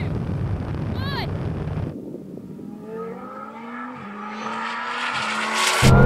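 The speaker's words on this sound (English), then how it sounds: "Now we're going to do a rolling race from around 40 miles an hour in second gear." A Bugatti Chiron Super Sport and a Lamborghini Huracan accelerate hard from about 40 mph in second gear in a rolling drag race. After a brief burst of noise, loud engine tones climb steadily in pitch and build toward the end.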